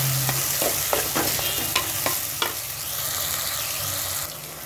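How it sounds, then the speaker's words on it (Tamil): Onions fry in a pan for a fish curry, a loud close sizzle punctuated by repeated scraping stirs of a spoon against the pan, with no talking. "ஸோ வெங்காயம் நல்லா வறுபட்டுருச்சு."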